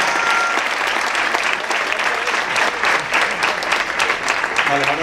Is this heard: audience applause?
yes